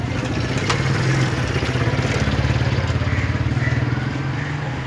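Motorcycle engine running steadily nearby in a narrow residential lane, a continuous mid-pitched putter holding loud for the whole stretch, with no talk over it.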